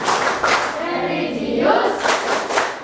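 Classroom of students performing the Tepuk PPK clapping routine, several bursts of group hand claps in a rhythmic pattern mixed with voices chanting along.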